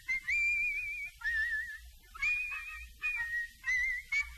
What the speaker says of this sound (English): he is going to whistle